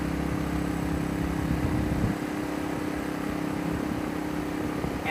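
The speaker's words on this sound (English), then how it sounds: "that's the nice thing about these little generators, these inverter style generators. They are nice and quiet." A small Sportsman 1000-watt pure sine wave inverter generator runs in economy mode with a steady, subdued hum, and a low rumble drops away partway through as it settles to lower revs.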